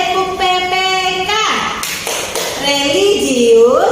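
A class of children chant together and clap in rhythm during a school lesson; the claps are sharp and close, mixed with the group's voices over a steady room background.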